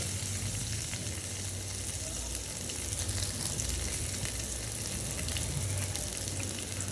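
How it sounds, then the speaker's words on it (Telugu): Mustard seeds frying in hot oil while being lightly stirred, a dense continuous crackling sizzle close up, steady throughout with no voices. "జస్ట్ లైట్గా కలుపుకుంటూ ఒక 2 మినిట్స్ వరకు అయితే వేపుకోవాలి."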